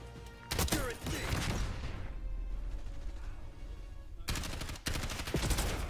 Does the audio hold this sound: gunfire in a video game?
yes